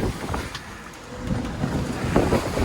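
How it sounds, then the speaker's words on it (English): Strong wind of about 30 knots offshore in the Gulf Stream, a rough, continuous roar buffeting the microphone, with the wash of sea and boat noise underneath, loud and close. "I measured 30 knots of wind with my linometer"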